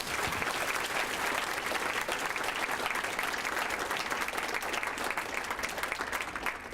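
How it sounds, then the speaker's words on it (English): Steady applause from a gala crowd, many hands clapping continuously at an even level for several seconds, fairly distant. "Let's give them all a round of applause."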